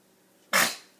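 A single sharp, breathy sneeze bursts out close by in a quiet room, with a fast onset and a short fading tail.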